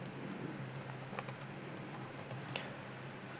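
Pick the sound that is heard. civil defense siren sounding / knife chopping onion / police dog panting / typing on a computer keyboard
typing on a computer keyboard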